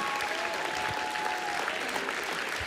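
A church congregation at a Sunday service gives a light golf clap: scattered, moderate clapping from a crowd that carries on steadily throughout.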